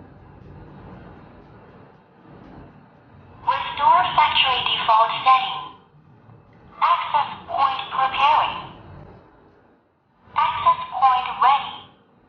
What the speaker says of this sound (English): Long press the button for about 20 seconds and you hear some voice prompts.